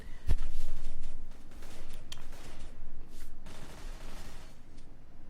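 Gunfire rattles through a professional Counter-Strike match on de_cache between fnatic and Vox, a sharp crack opening into bursts of rifle fire and scattered shots over several seconds, fairly close and without talk.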